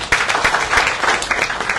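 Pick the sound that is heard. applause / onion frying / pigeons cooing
applause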